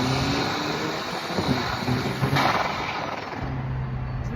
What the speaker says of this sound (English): Now you can hear the exhaust do the same thing.